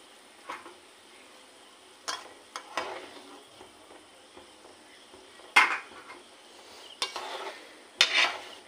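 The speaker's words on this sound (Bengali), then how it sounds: "জলটা একটু নাড়া দিয়ে নিচ্ছি" A pot of water for pasta is stirred in several scattered bursts of clinking and swishing, moderately close, with quiet pauses between the strokes and no talking.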